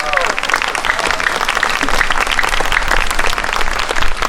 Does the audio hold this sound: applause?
yes